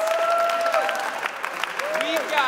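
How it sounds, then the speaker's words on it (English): An audience at a Yale Spizzwinks(?) family weekend concert claps for the parents, a dense patter of hands under and between cheerful voices and whoops. "can we get a round of applause for these people?"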